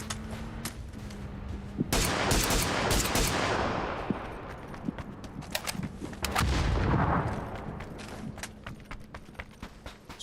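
Video game grenade explosions: two heavy booming blasts with long rumbling decays, scattered sharp gunfire-like cracks in between, loud and dense throughout.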